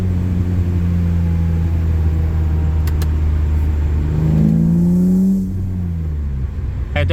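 A high-mileage BMW M3, 260,000 miles on it, drones steadily from inside the cabin while driving. The low engine note holds close and loud, then rises in pitch and swells as it revs before settling back to a hum.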